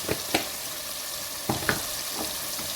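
Crushed cumin sizzles softly in a pan during preparation of boneless chicken handi, a steady frying hiss broken by a few faint clicks as the spices are stirred.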